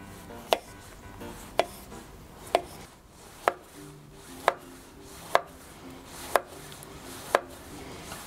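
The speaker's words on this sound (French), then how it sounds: "Parce que la tomate, c'est toujours plus délicat à couper." A small paring knife slices a tomato down onto a board with eight sharp, evenly spaced cuts about one second apart, close and clear against a quiet room.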